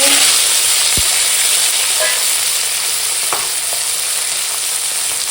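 Green chilies and tomato sizzling in hot oil with bay leaf and whole cumin, a loud, steady, close frying hiss with a couple of brief clicks of utensils, no voices.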